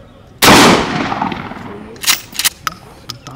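Gunfire in the Red Dead Redemption 2 video game: one sharp, loud shot with a decaying tail, followed by a few faint clicks and rattles.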